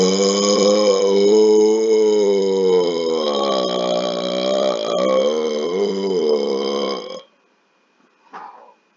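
A long, loud, deep burp rolls on for about seven seconds, rich and gravelly with shifting pitch, very close to the mic, followed by silence and then a brief soft vocal sound.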